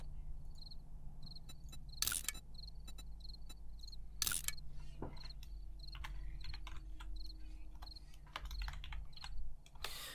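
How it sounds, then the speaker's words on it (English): Computer keyboard typing in short bursts of key clicks during a Darkness Falls game session, running steadily over a constant chirping cricket background with a low hum, faint and close. "My typing skills are abysmal today."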